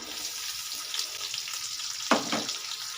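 Onions with fenugreek, mustard seeds, dried chillies, curry leaves and garlic fry in a pan for a fish curry, a close continuous sizzle with one sharper burst near the end.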